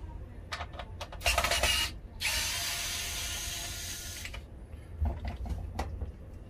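Screw being removed from a Philips airfryer with a tool, a series of small clicks and ratcheting ticks, then a sustained whirring hiss of about two seconds followed by more light clicks, all quiet and close.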